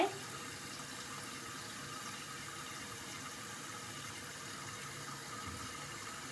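A toilet tank refills with water after a home repair, a steady faint rushing hiss that holds evenly throughout with no talking.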